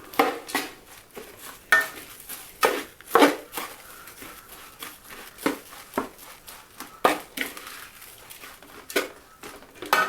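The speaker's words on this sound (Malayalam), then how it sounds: "എന്നിട്ട് പതുക്കെ നമുക്ക് ഇളക്കി കൊടുക്കാം" Flattened rice (aval) being stirred with jaggery and grated coconut in a pan, giving repeated scraping and clinking strokes of a spoon against the metal in an irregular rhythm, close and moderately loud with no talk.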